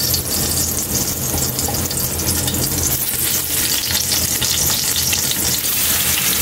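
Eggplant goes into a pot of sinigang sa miso amid a steady, loud sizzle and bubbling stir, dense and continuous throughout with no talk.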